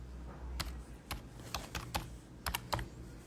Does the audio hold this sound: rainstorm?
no